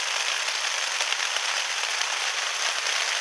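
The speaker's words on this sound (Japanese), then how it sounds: "雨やばいね。" Heavy rain falls steadily on a solo campsite beside a mountain headwater stream, where a tarp is pitched. A dense, even hiss fills the whole stretch with no pauses and no voices.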